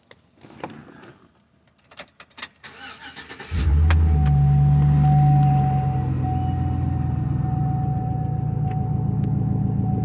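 A supercharged 2003 Chevy SSR engine cranks with a few clicks and clunks, then fires up into a loud, close rev before settling into a steady rumbling idle.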